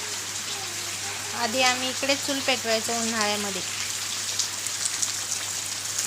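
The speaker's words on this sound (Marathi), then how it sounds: "बघा पाऊस पडते तर साचलंय पाणी थोडं थोडं. आत्ताच पडायला लागलंय." The first rain of the season falls on open ground beside a cement wood-fired stove, giving a constant soft hiss of drops. A person talks over it for a few seconds, then the rain carries on alone.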